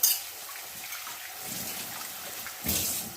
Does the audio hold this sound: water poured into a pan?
yes